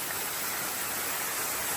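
Falling water pours down a canyon waterfall in Tujunga, California, after recent rains, producing a constant dense hiss and rush with no breaks, heard up close.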